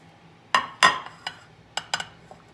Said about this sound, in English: Take them out of the oven.